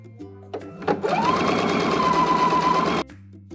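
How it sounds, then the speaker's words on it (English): A sewing machine runs in one continuous, steady stitching burst for about two seconds, sewing hem tape along a groove on a garment, preceded by small handling clicks and with no talk. "we're going to go ahead and sew in that groove on the other side"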